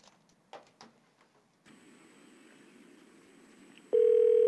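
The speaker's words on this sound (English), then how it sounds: "let's see if we can get Vinny on the phone here" A telephone line during an outgoing call on a live morning show: faint background hum and scattered clicks, then a loud, steady electronic tone cuts in abruptly near the end and holds.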